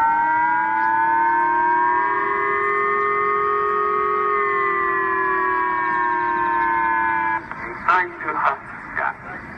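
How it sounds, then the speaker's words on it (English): A loud, sustained warning siren in Japan wails with a slowly rising and falling pitch, then cuts off as a voice begins speaking over the background. "Millions of Japanese woke up to the sound of blaring sirens and emergency phone alerts on Friday"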